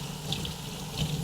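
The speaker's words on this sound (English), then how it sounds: "Wring the pad out." Water splashes and drips steadily as a buffing pad is wrung out, a brief, soft, continuous wet rush heard up close.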